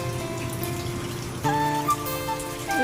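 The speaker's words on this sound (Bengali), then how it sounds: "এখন নেমে গেছে বৃষ্টি।" Steady rain falls outside on a cloudy morning, a continuous wet patter with tonal background sounds joining partway through.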